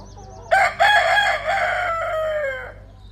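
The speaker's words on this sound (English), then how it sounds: "especially a rooster crowing." A rooster crows once, nearby and loud, a drawn-out call of about two seconds that tails off, with quiet outdoor background before and after.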